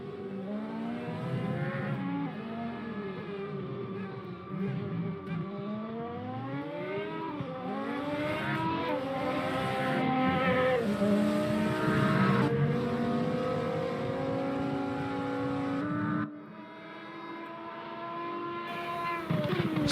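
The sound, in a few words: race cars in a sim racing video game endurance race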